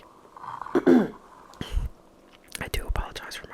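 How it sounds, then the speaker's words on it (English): Coughs and throat noises come in short bursts amid soft whispering, close and intimate, while someone quietly paints by number. "I do apologize for my coughing"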